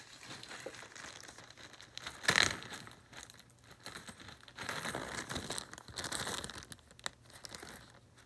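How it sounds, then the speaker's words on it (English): Plastic bag crinkling as spare Lego parts are dropped inside, soft rustles and crackles close by with one sharper crunch early on, then a run of scattered crinkling bursts and no speech. "I'm going to put these extra parts in the plastic bag that I have."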